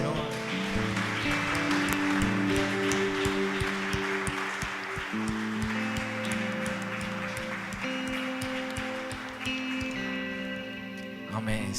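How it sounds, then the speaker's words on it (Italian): A congregation claps for the Lord during a church communion service in Verona, applause running beneath a speaking voice and music for most of the span. "Possiamo fare un applauso al Signore?"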